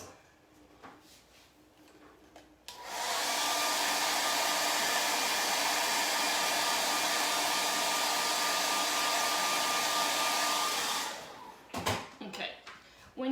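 A hair dryer runs steadily for about eight seconds, blowing loud and close over a chalk craft project, with faint handling clicks before it starts and after it stops.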